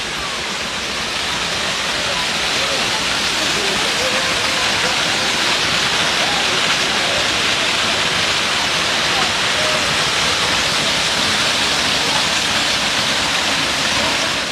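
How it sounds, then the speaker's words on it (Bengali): Bamni waterfall in Purulia roars as a steady, loud, broadband rush of falling water that fills the whole stretch without a break. "দূরে দেখো ঝর্ণাটা জল কীভাবে বয়ে আসছে"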